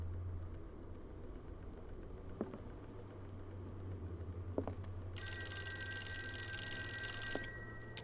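An old telephone rings in Call of Cthulhu, its electric bell bursts sounding a few times alone over a low ambient hum and faint scattered knocks.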